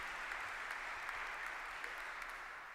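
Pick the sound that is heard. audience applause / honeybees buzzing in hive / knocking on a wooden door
audience applause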